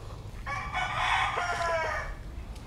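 A White Kelso gamefowl rooster kept as a fighting cock gives a single drawn-out crow at moderate distance, rising and holding before fading, over low background rumble.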